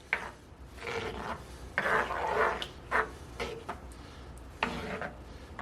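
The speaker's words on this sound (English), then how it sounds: "Give it a nice stir." A spoon scrapes and rubs through thick Thai curry in a pot, a soft, irregular sequence of close stirring strokes with brief knocks against the pot. Nobody speaks.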